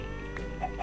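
A chicken in the Minecraft video game gives two quick soft clucks near the end of a brief moment, over a low steady background hum.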